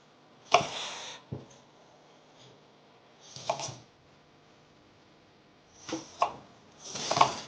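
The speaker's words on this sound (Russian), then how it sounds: "я сейчас порежу нашу морковку" A knife chops small peeled carrots on a cutting board for cabbage soup, giving a few separate sharp taps spaced seconds apart, close and fairly quiet with stillness between.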